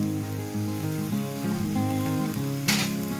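Frog stir-fry with herbs sizzles in the pan as oyster sauce goes in, a steady low frying hiss under background music that flares into a brief, louder sizzle near the end.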